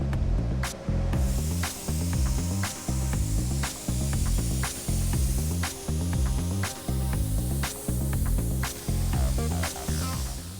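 A spray gun hisses steadily as cappuccino-colored paint goes onto a Chevy race truck in a paint booth, with a continuous broadband spray punctuated by regular rhythmic pulses and clicks from machinery, close and loud with no talk.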